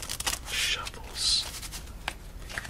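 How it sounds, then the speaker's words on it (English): A deck of playing cards is shuffled up close and quietly, with two crisp riffling bursts separated by soft handling sounds and faint whispery noise. "So let's give this deck two more shuffles"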